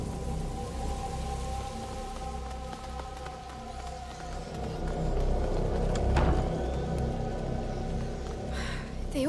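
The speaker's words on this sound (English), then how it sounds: "Lucas, Hugo, stay out of the rain." Rain falls steadily in the video game A Plague Tale: Innocence, a continuous hiss with low rumbling underneath, with faint clatter near the end.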